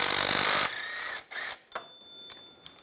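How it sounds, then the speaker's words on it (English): A socket wrench removes a 15mm bolt on a 2008-2017 Buick Enclave during power steering pressure hose work, giving a dense burst of ratcheting at first, then a few sharp, separate metallic clicks and clinks close by. "And take this bolt out right here, use a 15mm socket."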